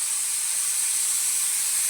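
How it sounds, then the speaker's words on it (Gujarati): A pressure cooker boiling mung beans on a Gujarati home stove lets out a loud, steady, high-pitched steam whistle that holds without a break the whole time. "હવે કુકરમાં સીટી થાય છે."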